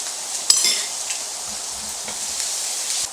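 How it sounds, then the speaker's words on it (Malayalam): Garlic sautés in hot oil in a pan, giving a soft, even sizzling hiss with a faint tap at the start and small crackles scattered through. "അത് ജസ്റ്റ് ഒന്ന് സോട്ട് ചെയ്തെടുക്കണം."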